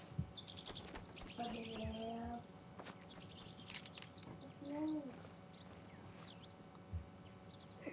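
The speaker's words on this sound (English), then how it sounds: "There's birds everywhere." Birds chirp and call in the video game Revontuli Coast, several bursts of tweeting and a warbling call spread through the scene, mixed with footsteps and other game sounds.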